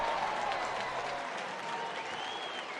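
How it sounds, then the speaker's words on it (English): Baseball stadium crowd at a Phillies–Tigers game cheers and applauds in a sustained roar, fairly faint and distant, with a voice briefly audible underneath. "That is so loud, the crowd."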